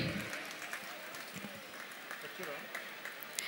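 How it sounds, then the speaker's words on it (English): Audience at a school annual day clapping for a grade 1 student, a dense burst of applause from a crowd that carries steadily through the whole short stretch, heard at a moderate distance. "Please give her a huge round of applause."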